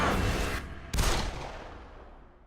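Two sharp gunshots ring out in The Evil Within video game, close and loud, about a second apart, each leaving a short fading echo.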